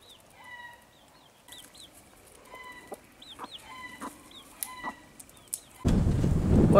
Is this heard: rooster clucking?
yes